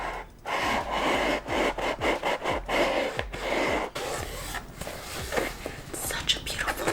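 A drawer-style Louis Vuitton pull-out box slides open with repeated soft rubbing, scraping strokes of cardboard against cardboard, close and moderately loud, while someone talks over parts of it.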